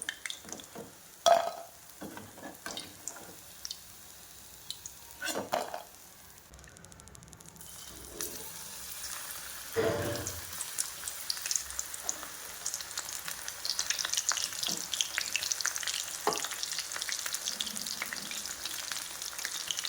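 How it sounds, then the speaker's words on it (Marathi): Soya chunks deep-frying in hot oil as a second batch for crispy soya chilli, a steady close sizzle and bubbling that builds and thickens over the second half, with a few scattered clinks and taps early on. "हे पहा, आपला हा दुसरा घाणा आपण तळत आहोत."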